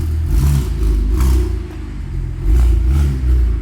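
A BMW 335i with the N54 engine revs repeatedly through a new aftermarket exhaust, giving a loud, deep, rumbling drone that swells and eases in several throttle blips, close by.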